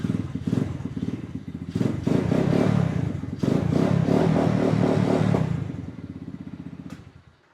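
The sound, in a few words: 110cc quad bike engine starting and running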